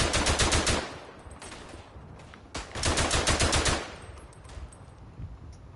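Hotchkiss machine gun fires in the WW1 trench shooter Verdun: two loud bursts of rapid automatic fire, each lasting over a second, separated by a brief lull with scattered distant battlefield noise.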